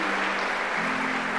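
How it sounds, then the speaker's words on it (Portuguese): A church congregation applauding steadily during a sermon, a dense continuous wash of clapping with no voices over it. "Vamos dar uma salva de palmas à palavra de Deus."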